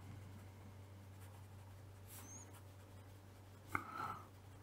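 A pen writes during a technical lesson, with faint, soft scratching strokes over a low steady hum and one brief sharper tap near the end.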